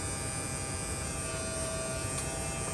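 The AC compressor of a Tesla Model 3 runs with a steady, close electric whine and buzzing hum that holds constant throughout, with no talk.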